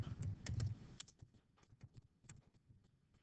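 Typing on a computer keyboard: a quick burst of close, crisp key presses, heavier at the start and thinning into scattered taps.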